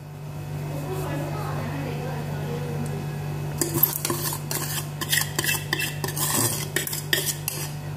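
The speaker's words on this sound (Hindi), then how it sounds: "और इसे अच्छी तरह से मिक्स करेंगे" Eggs and powdered sugar are whisked together in a bowl, with rapid metallic clinking and scraping strokes that start partway in over a constant low hum, while a voice is briefly heard.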